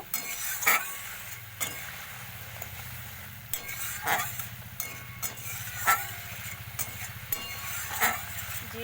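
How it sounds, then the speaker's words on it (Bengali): Spice paste for a Ganges boal fish curry sautéing in a pan, with a steady sizzle under repeated scraping stirs and occasional utensil clinks against the pan, close and moderately loud. "মশলাটা খুব ভালো করে আমি কষিয়ে নেব"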